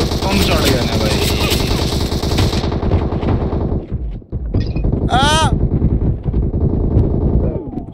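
Loud, rapid automatic gunfire rattles continuously in PUBG Mobile during a live custom match, with a short break and a whooshing sweep before firing resumes, as players talk excitedly over it.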